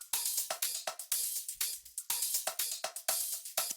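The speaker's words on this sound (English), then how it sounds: "And this hi-hat." Hi-hat from a Kpop dance track ticking in a fast, even pattern of short bright hits with occasional open accents, close and loud with no voices over it.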